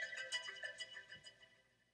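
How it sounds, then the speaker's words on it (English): A phone's text message alert plays a short, quiet melodic chime of several bright tones that fade out, heard during an FT8 digital-mode ham radio session. "That was a text message I got."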